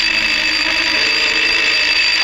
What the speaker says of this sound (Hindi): switch off the alarm